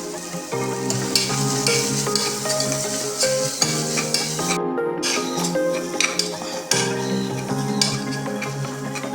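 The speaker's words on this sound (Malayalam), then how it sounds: "ഒരു സവാള ചെറുതായിട്ട് അരിഞ്ഞ് ചേർത്ത് കൊടുക്കാം നന്നായി വഴറ്റി കൊടുക്കാം ഒരു തട്ട് കറിവേപ്പിലയും കൂടെ ചേർത്ത് വഴറ്റി കൊടുക്കാം" Chopped onion and curry leaves sautéing in a pan for a vegetable kurma, a continuous close sizzle with stirring scrapes, over steady background music.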